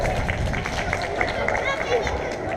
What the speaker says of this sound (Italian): Kevin, un applauso!